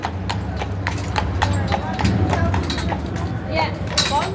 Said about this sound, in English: they got horse and buggy rides in Gettysburg